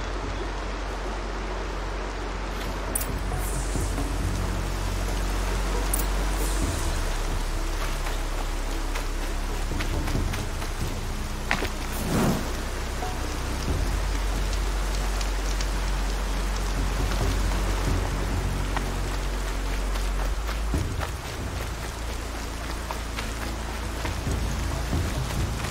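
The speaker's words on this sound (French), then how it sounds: "La pluie résonne comme un tambour." Steady, dense rainfall in the video game Horizon Zero Dawn patters continuously on a surface, with occasional sharper drips and a low rumble underneath.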